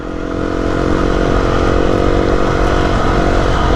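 A Beta 390RR trail motorcycle climbs a green lane in Kent, its engine loud and close with a steady buzzing drone and mechanical clatter throughout.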